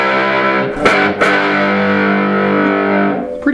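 An electric guitar played through a Dr. Boogie distortion pedal rings out in thick, sustained distorted chords, loud and close, with a couple of sharp strum attacks before the sound fades out.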